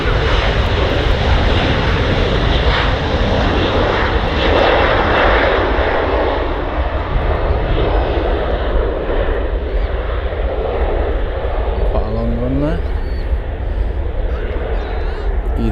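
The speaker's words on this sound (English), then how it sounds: "There's the AirFrance hop going. Back to Charles de Gaulle. It's a nice little aircraft," Air France Embraer E170 jet taking off at Manchester Airport, a loud, steady roar of jet engines that fills the whole stretch and slowly fades, with faint voices underneath.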